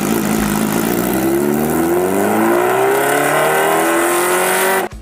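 A Kawasaki H2R track-only motorcycle with a supercharged 998cc inline-four screams at full throttle. Its pitch climbs steadily and loudly, then cuts off abruptly at the end.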